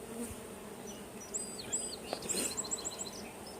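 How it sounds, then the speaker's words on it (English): Honey bees buzz close by during a full inspection of a big hive, a dense whirring drone with individual bees flying past the microphone and faint bird chirps in the background. "you just dumped a whole bunch of bees out"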